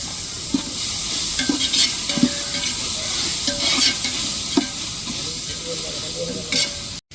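Mint and coriander leaves fry in a pan while being stirred. A loud, continuous sizzle is broken by irregular scraping clicks from the spoon against the pan.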